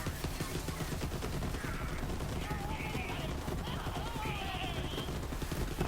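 Iron Bear mech opening fire in Borderlands 3, a dense continuous barrage of rapid gunfire under layered game effects and chatter, loud and unbroken throughout.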